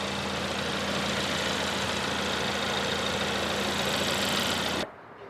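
A Ford Focus RS engine runs steadily at idle with a dense, even mechanical drone that holds level and then cuts off abruptly near the end.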